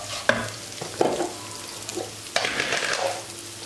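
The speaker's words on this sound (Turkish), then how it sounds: "İyice böyle pirincinizi kavurun." Rice frying in butter in a pan, a soft sizzle under intermittent scraping and stirring strokes with a few sharper knocks of the utensil, close and moderately quiet.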